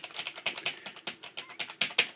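Fingers type briskly on the keyboard of an Amstrad portable word processor, a close, quiet run of about a dozen crisp clicky keystrokes in uneven rhythm, with no voices.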